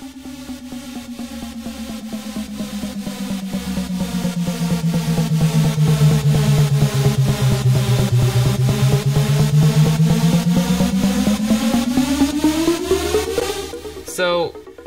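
A layered synth intro builds around a super saw bottom layer. A thick, buzzing chord sweeps downward, then climbs steadily in pitch and intensity under a rapid pulsing rhythm, and cuts off abruptly near the end.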